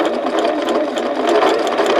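A sewing machine stitching a paper-pieced log cabin quilt block, with a rapid, steady, close needle chatter running without a break for the whole stretch.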